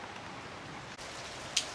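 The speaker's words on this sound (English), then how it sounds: "But we're getting a little rain up here," Light rain falls outside a house with a garage and solar inverters, a steady soft hiss with one brief sharper drip near the end.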